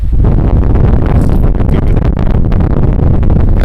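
Strong wind gusts across a harbor where boats race, a loud continuous rumble of wind buffeting the microphone throughout with no clear talk.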